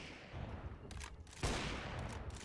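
Rapid bursts of gunfire ring out in a Counter-Strike match on the Overpass map, several sharp shots crackling close, with a louder burst midway followed by continued rattling fire.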